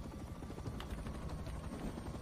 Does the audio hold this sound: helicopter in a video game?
yes